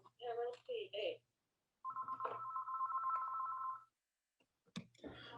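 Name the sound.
phone ringing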